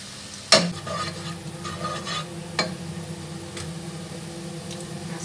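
Beef semur cooking down in a pan as its liquid evaporates, a soft steady simmering sizzle close by, broken by a sharp utensil knock and a lighter clink while stirring.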